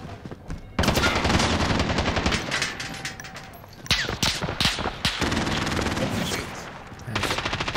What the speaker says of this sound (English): And they've got a sentry gun.